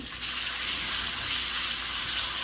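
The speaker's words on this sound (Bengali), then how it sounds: "এবার ভেজে নেবো ভালো করে" Pieces of rohu fish fry in hot oil, giving a constant loud hiss and sizzle with no break and no talking over it.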